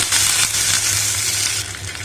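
Curry leaves and dried red chillies fry in hot oil for a snack recipe, giving a steady, close, crackling sizzle with no talk over it.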